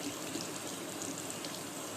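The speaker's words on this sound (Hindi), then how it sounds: "और अब मैं इसको पानी से साबुन को निकाल दूंगी, देखिए इस तरह से।" Running tap water splashes steadily as soap is rinsed off hands at a sink, a close, continuous hiss with no speech.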